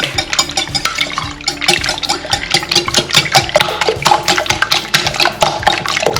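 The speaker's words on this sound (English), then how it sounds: "We'll give it a whisk." Eight large eggs are whisked vigorously in a bowl for bacon and egg muffins, giving a loud, fast, continuous rhythmic clatter and slosh close by, with no talking.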